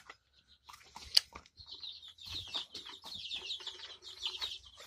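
Baby chickens peep in a busy cluster of high, thin cheeps, close and fairly faint, with a brief sharp knock early on.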